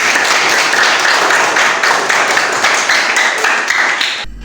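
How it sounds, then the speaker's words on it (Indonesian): Group of people doing rain-style clapping at the close of a school coaching session, a dense, steady patter of many hands filling the room for about four seconds before cutting off. "Beri tepuk tangan hujan"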